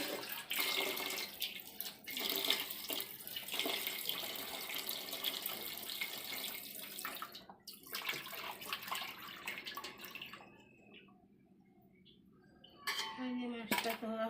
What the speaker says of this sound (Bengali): এই যে মাছটা ধোয়া হয়ে গেল